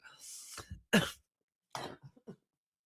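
A few short, sharp coughs with brief pauses between them, close and fairly quiet, with no talking.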